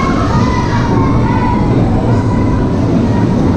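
Duinrell's giant frog roller coaster train setting off, riders seated on the back of the frog: a loud, steady rumble of wheels and rattling cars that stays level and close throughout, with no pauses.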